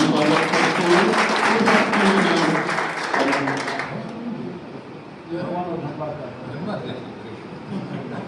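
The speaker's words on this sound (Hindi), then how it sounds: "एक बार जोरदार ताली से स्वागत करते हुए" An audience at a voter awareness event with an NCC battalion applauds in a dense burst of clapping that is loud and close for about four seconds, then fades into scattered claps under murmuring voices.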